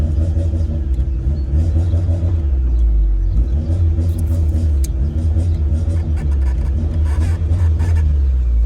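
A Tofaş Doğan SLX engine rumbles loudly up close, its revs rising and falling in repeated throttle blips over a deep, throbbing idle.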